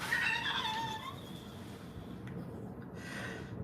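A cat meow plays as a donation alert chime during a live stream: a bright, fairly loud meow in the first second, then a softer tail under a hiss of background noise.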